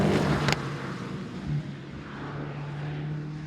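A Mercedes-AMG GT Black Series V8 on a racetrack gives a steady engine drone with a low tonal hum, heard from inside or nearby, with a brief knock early on.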